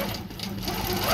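A quilting machine stitches an edge-to-edge design across a quilt, giving a steady close mechanical hum and rapid rhythmic clatter that holds even throughout.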